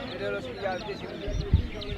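Baby chickens cheep and cluck at a busy village poultry market in Fatullah, Narayanganj, their chirps steady under nearby voices of people talking, with a louder thump of activity midway.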